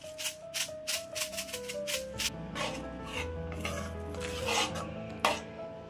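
A utensil scrapes and clinks in a pot while Maggi noodles are stirred with sliced cheese, oregano and chili flakes, giving quick rhythmic metallic taps and rubbing close by, with no talking.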